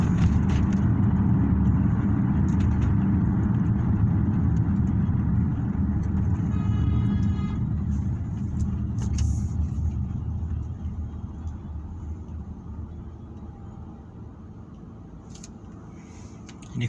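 Steady road traffic in Saudi Arabia, a heavy continuous engine rumble from nearby cars that slowly eases toward the end, heard from inside a vehicle with no talk.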